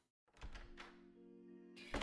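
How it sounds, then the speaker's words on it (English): A front door thuds shut once, muffled and fairly close in a quiet room, then a low ringing hum lingers and a second soft knock follows at the end. "He calmly walks out of the front door."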